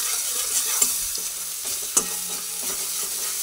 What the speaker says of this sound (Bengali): সব দিয়ে ভালো করে মশলা ভেজে নিচ্ছি।